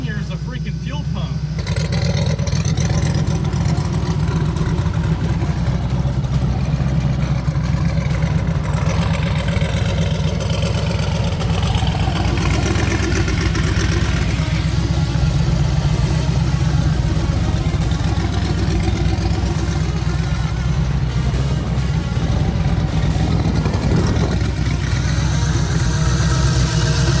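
A twin-turbo truck with newly fabricated exhaust cruises steadily, heard from inside the cab as a continuous low engine drone with a faint fuel-pump whine, and a voice talks over it throughout.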